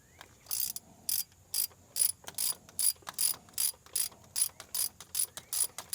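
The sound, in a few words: hand ratchet running in cylinder head bolts on GMC 6.0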